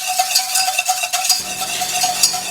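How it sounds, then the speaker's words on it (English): A whisk clinks and scrapes rhythmically against a bowl while sour cream is beaten into a pork roast sauce, a brisk metallic tapping close up with no voices. "So I'm just going to whisk this together."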